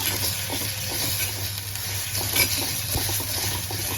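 Ginger garlic paste being stirred into reddened onion frying in a pan for mutton liver masala, with a continuous close sizzle and a quick, regular rhythm of spoon scrapes and taps.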